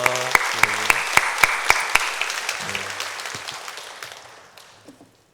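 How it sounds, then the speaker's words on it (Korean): A church congregation at a Sunday service claps to welcome a missionary serving in China, with crisp, distinct handclaps near the front over softer group clapping that tapers off over a few seconds. "우리 박수로 환영하겠습니다"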